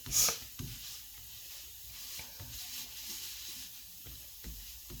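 Steady, quiet sizzling of batter frying in a pan, with a few soft scrapes and taps over the hiss.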